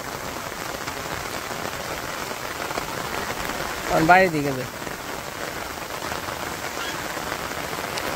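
Steady rain falls on a village, a dense even hiss of drops drumming on surfaces throughout. A single voice speaks briefly midway.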